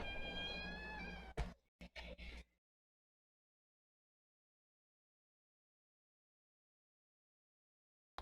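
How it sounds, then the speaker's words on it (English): Newborn kittens about two weeks old meow in a short burst of thin, high, wavering cries close by, then a few scattered squeaks before the room falls silent. "it's kind of crazy when your daughter's cat has kittens"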